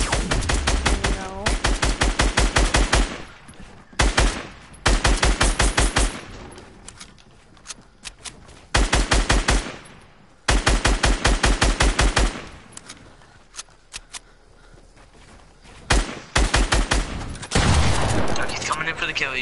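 Rapid bursts of video-game gunfire in a Fortnite-style build battle, repeated volleys of sharp automatic shots separated by short pauses, loud and close, with a voice talking over parts of it.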